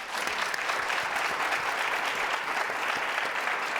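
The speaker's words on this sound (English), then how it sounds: "A round of applause for our panelists." Even, continuous applause from an audience at a corporate International Women's Day panel, steady and moderately loud throughout the few seconds with no break.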